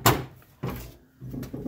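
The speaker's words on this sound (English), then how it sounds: "So I'm gonna get the door open." A second-generation Camaro door with shaved handles opens, with a sharp latch click, a second thunk and softer handling noises close by, no voices.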